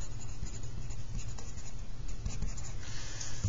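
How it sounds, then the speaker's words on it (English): Pen or pencil writing on a paper map of Minnesota, a steady close scratching and rubbing that runs without pause for several seconds, with no talk over it. "I'll draw a line across. All right, for Mankato, I'm going to write Mankato then."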